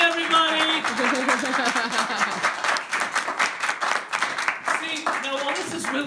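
A crowd applauds at a magic show at Coney Island, sustained clapping from many hands running the whole stretch while someone talks over it and other voices are heard near the start and end.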